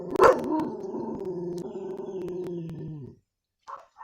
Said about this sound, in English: Somebody's walking by, so my dog's gonna freak out.